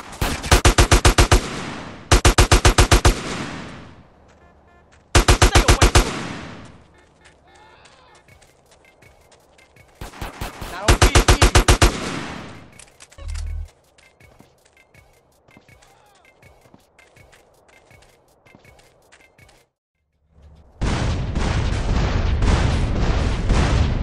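Bursts of gunfire in GTA: San Andreas, loud clipped volleys arriving in separate clusters with quieter gaps between, mixed with game noise and other sounds, ending in a long dense stretch.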